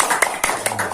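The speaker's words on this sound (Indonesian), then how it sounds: "Ya, tepuk tangan buat Anda semuanya." Audience applause at an Indonesian business presentation, a short burst of scattered hand claps with several distinct sharp peaks, moderately loud and close.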